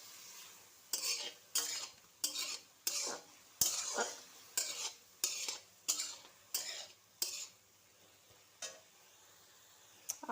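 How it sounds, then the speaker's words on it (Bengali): Soybean chunks stirred and fried with turmeric and salt in a pan, about a dozen evenly spaced scraping strokes of a spoon against the metal over a faint sizzle, close and quiet, with no talk. "আর পরিমাণ মতো হলুদ দিয়ে দিচ্ছি, দিয়ে সয়াবিনটা ভালো করে ভেজে নেব।"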